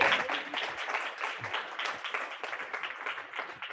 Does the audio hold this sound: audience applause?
yes